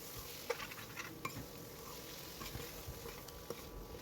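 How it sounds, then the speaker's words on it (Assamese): Sliced onions dropped into hot spiced oil in a pan for an okra fry give off a faint, steady sizzle, with a few soft clicks and stirring taps over low background hiss. "আৰু এতিয়া এইখিনি পিঁয়াজখিনি দি দিছোঁ।"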